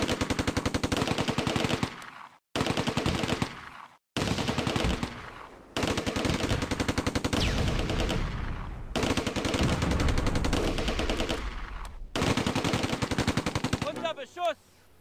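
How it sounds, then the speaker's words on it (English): Close Combat wartime game battle with a BAR squad and mortars firing: loud sustained bursts of automatic gunfire in several long volleys, broken by brief pauses, close and dense throughout. "My BAR squad targets the Sturmgrenadier squad advancing across open ground."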